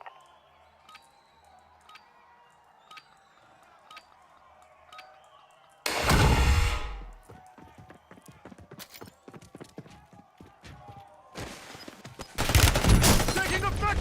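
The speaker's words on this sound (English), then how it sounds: "Taking effective fire!" Gunfire in the Call of Duty Warzone battle royale game: a loud broadband volley erupts midway, followed by scattered shots and another heavy, sustained burst near the end over quieter game ambience.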